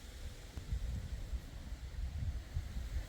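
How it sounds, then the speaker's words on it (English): Steady low rumbling wind buffeting a microphone beside a Ducati Multistrada V4S Pikes Peak motorcycle, continuous and fairly loud, with no voices. "if you can hear me over the wind in the background"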